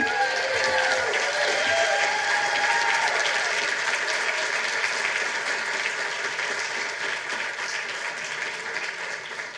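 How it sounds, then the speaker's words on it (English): A large union-address audience bursts into sustained applause, dense clapping with a faint cheer early on, loud at first and slowly tapering toward the end. "let's give a round of applause"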